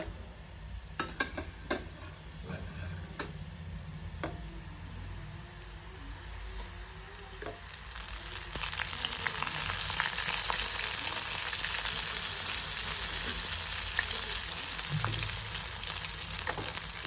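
Oyster mushrooms dusted in flour and dropped into hot oil, frying with a steady close sizzle that swells and thickens partway through, with a few light clicks and stirring touches early on.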